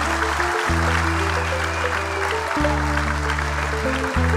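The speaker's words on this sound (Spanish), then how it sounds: "Se ve el público aplaudiendo" An audience applauds after a concert song, dense clapping heard alongside sustained low musical tones that continue underneath.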